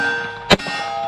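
A single SCT-19 rifle shot strikes an MGM IPSC steel target at an outdoor range, giving one sharp, loud crack and clang with a brief metallic ring afterward.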